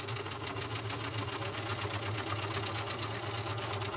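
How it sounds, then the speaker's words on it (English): A domestic sewing machine running continuously during free-motion quilting of wavy lines, a steady rapid stitching hum with a fine rhythmic clatter, close and unbroken, with no speech. "I'm going to finish quilting these wavy lines"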